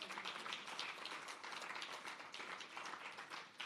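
Audience applause at a trade board export academy launch, a steady wash of many hands clapping together at moderate volume throughout, with no clear pauses.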